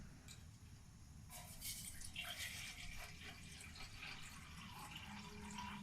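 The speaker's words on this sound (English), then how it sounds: "Just Put some water in there." Water poured into a pot on an Awroutdoor 3500W portable windproof camping gas stove, a steady trickling splash over a low burner hiss, close and fairly quiet.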